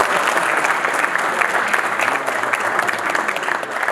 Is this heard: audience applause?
yes